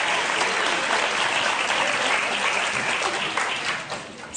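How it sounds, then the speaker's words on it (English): Studio audience breaks into sustained applause, a dense, loud wall of clapping that holds steady before tapering slightly near the end. "So weird that got an applause."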